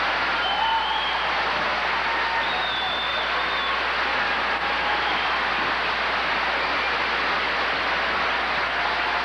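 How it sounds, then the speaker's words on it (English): Audience applause for a pep band at a 1989 Owatonna basketball welcome-home celebration, a steady wash of clapping from a large crowd, even and sustained, with a faint voice briefly audible. "thank you for that nice round of applause"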